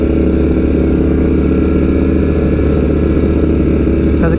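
A Ducati motorcycle engine idles close and loud, a steady, throbbing, propeller-like drone with constant level and no speech.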